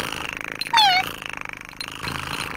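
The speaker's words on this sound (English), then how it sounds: "No, Polly's a ship's cat, Pat." Cartoon ship's cat gives a short, bright meow over a soft rhythmic purr, close up in a small animated scene with light background sound.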